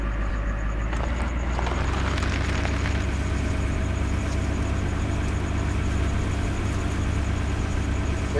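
A truck engine idles steadily in Farming Simulator 17, a continuous low rumble with a faint whine that stays even and close throughout, with no talking.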